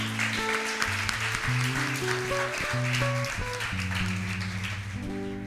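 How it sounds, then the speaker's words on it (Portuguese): A church congregation claps along under loud keyboard or organ music, the applause a steady wash beneath the sustained chords. "você pode aplaudir o Senhor?"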